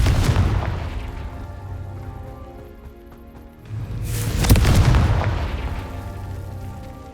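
Blasting spell explosion in the Hogwarts Legacy video game: a deep rumbling boom opens, fades, then a second sharper blast bursts out and rolls away in a long resonant tail, loud and close.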